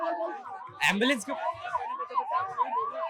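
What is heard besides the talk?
ambulance siren at a protest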